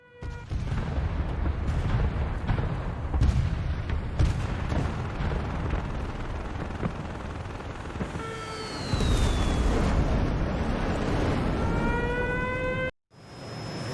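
A combat aircraft in IL-2 over Korea, its fuel tank holed, clips a tree and breaks up. Loud engine roar and rumbling impacts build, then rising whining tones swell before a brief dropout and a return of the noise.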